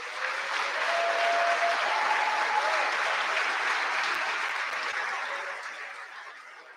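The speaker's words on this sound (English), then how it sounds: "let's give all our competitors and cadre another round of applause for a job well" A crowd applauds steadily at the Sandhurst 2024 awards ceremony, a dense wash of clapping that swells early, holds, then gradually fades toward the end.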